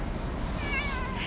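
A cat in an alley of old Tashkent, Uzbekistan, lets out a single drawn-out meow, close and fairly clear over a low, steady background rumble.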